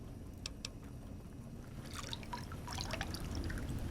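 Water dripping and trickling from a faucet in a video game, with light scattered drips and soft splashes over a low, steady background rumble, getting a little busier toward the end.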